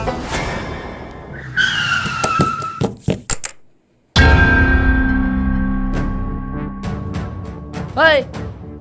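A car skids with a sharp tire screech, a brief hush, then a loud rush of engine and road noise with a short squeal near the end; a voice speaks briefly.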